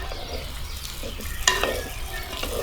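Sweet potato slices fry in homemade ghee in a clay pot, a close, steady sizzle with soft scraping from stirring and one brief sharp clink.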